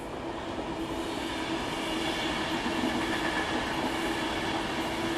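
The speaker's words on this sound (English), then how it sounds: "Here comes a Pendolino." A Class 390 Pendolino passes at South Hampstead from London Euston, a steady close rumble and rush of wheels on rail with a faint tonal hum held for the whole few seconds, no voices.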